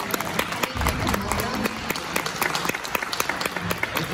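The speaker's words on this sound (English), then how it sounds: "Could we give Director Don Hall a big round of applause?" A theatre audience at the Fox Theater in Pomona applauds a Disney Animation director, dense steady clapping from many hands filling the room without a break, with faint crowd noise mixed in.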